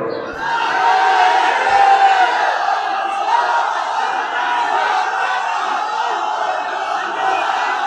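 A large crowd shouts a takbir together in a sustained, loud, massed roar of many voices that holds for several seconds, with no other sound beneath it.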